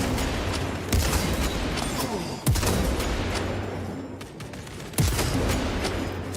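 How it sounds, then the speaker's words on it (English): Sniper rifle shots fire in the No Man's Sky video game. Three sharp, separated reports sound over a busy, noisy game soundscape. "we're gonna grab the sniper rifle."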